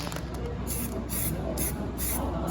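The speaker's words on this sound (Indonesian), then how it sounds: "menyemprot kontras paint pada benda kerja yang akan kita tes" An aerosol can sprays contrast paint onto a welded test piece. About four short, even hissing bursts come in a regular rhythm over a low background hum.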